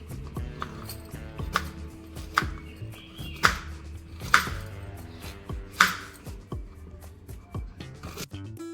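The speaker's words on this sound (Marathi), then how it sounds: "आता आपल्याला छोटे छोटे तुकडे करून घ्यायचे आहेत कैरीचे" A knife chops raw mango against a cutting board in a steady series of crisp taps, close and clear, with occasional louder strikes.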